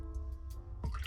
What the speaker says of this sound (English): I'm just pouring out the water in my original glass container that was holding all 3 of my seeds